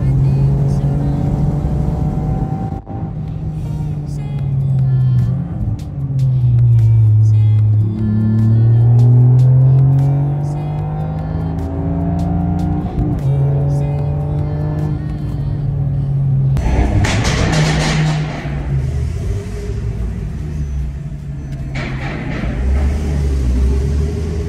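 A modified Porsche 997 Turbo engine rumbles and revs at the Spa circuit, its deep tone steady and close, with a louder burst of rising revs late in the clip; the engine runs without a break throughout.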